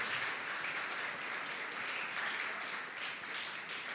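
A church congregation applauds at a Holy Thursday service, dense sustained clapping from many hands filling the space evenly and loudly for the whole stretch, with no speech over it.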